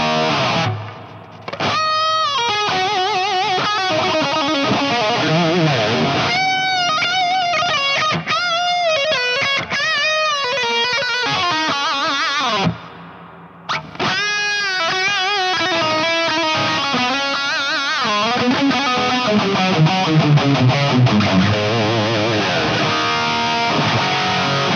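Electric guitar played through a Pot Farm Cave reverb plugin loaded into the NAM player, picked notes and chords ringing out with long washy reverb tails, loud and continuous with brief pauses where the sound drops away.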